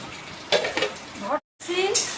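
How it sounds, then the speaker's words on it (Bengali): Mung dal lentils frying in a pan while being stirred, with a close crackling sizzle and scraping strokes, briefly cut out once, and a voice faintly present underneath. "মুগ ডালটা ভেজে নিচ্ছি, বর্ষাকালে খিচুড়ি।"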